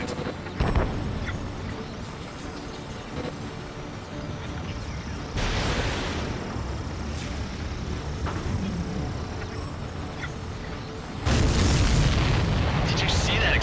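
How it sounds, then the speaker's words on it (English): A supply ship blows up in the Ace Combat 7 flight game, with heavy booming blasts rising at the start, around the middle and near the end over constant jet and combat noise, while radio voices talk throughout. "Did you see that explosion?"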